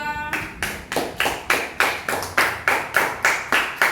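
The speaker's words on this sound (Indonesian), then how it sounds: "Kita berikan aplaus untuk kelompok 2" Applause for a student group after a classroom presentation, a steady run of about a dozen bright, even claps close by, with a brief tone at the very start.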